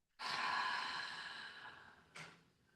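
A long, breathy exhale during hatha yoga breathing, strong at first and slowly fading, followed by a shorter second puff of breath near the end, close and alone.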